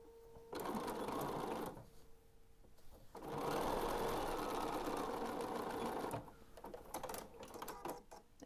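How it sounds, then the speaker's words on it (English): A sewing machine stitching down the arms of a fabric doll made from a quilted doll panel, running in two long bursts with a brief pause between, near and alone. "So now I'm going to sew both arms down."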